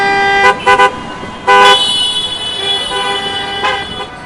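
Car horns honk in a tense traffic jam, several sharp blasts in bursts, one long sustained blare, then another short toot, loud and close.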